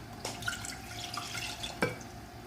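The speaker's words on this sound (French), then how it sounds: "Commençons par verser l'eau" Water poured into a pot while making homemade halkouma candy: a brief, fairly quiet splashing trickle with a couple of soft clinks, no talking.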